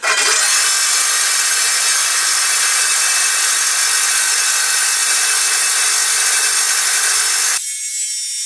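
Wood being sawn for a baby cot: a loud, steady, continuous rasping saw cut that runs for about seven and a half seconds, then stops abruptly, leaving only faint room noise.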